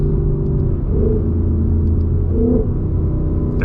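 A 2020 Ford Mustang GT with a Lund 91 octane tune rumbles loudly from close inside, its engine note steady with two quick blips as it downshifts.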